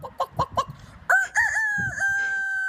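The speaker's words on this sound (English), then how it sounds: "Told you they all roosters and donkeys." A rooster crows loudly and close by, one long drawn-out call, after several short clucks, with a few other chickens heard faintly beneath it.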